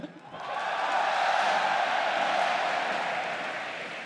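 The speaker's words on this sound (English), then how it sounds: "then I want to hear a clap." A live esports arena crowd at a Fnatic versus FC Schalke 04 EU LCS Summer Finals League of Legends match in Madrid roars with dense, sustained cheering and clapping that swells within half a second and holds loud before easing slightly.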